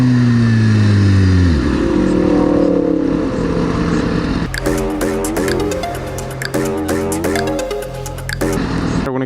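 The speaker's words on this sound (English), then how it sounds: "Ooh, green Aventador." A green Lamborghini Aventador on the street, its engine loud and close with a falling drone and then rapid rising revs.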